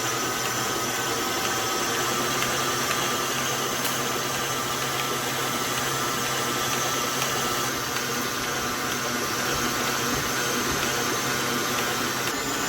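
Stand mixer kneading gluten-free bread dough at second speed, a steady loud motor whir and hum with no breaks, running alone without talk.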